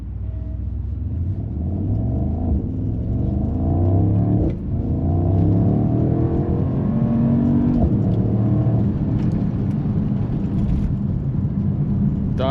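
A 2025 Mercedes-AMG SL 63 S accelerates hard in a drag race, its engine a loud, continuous rumbling roar that climbs in pitch through several gear changes, heard from inside the car.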